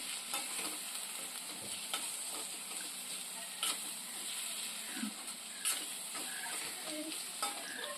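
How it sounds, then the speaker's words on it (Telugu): A ladle stirs garam masala and homemade spice paste in a frying pan for a village-style chanduva fish curry, with a soft sizzle and intermittent close scrapes and taps. "ఇవన్నీ వేసుకుని మళ్ళీ ఒకసారి గరిటెతోటి మిక్స్ చేసేసుకుందామండి"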